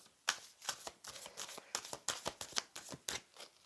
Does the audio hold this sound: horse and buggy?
no